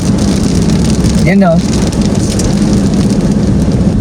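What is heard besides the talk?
rain starting to pour, heard from inside a van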